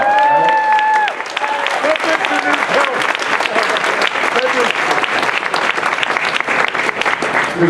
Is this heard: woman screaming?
no